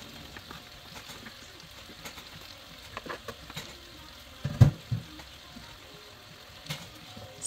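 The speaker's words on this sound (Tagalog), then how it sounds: "Takpan at isimmer lang natin ito ng 3 minutes." Beef for Filipino bistek, Ilonggo style, simmering in a covered pan: a soft, steady low sizzle and bubbling with a few louder pops and lid clatters around the middle, fairly quiet, no talk.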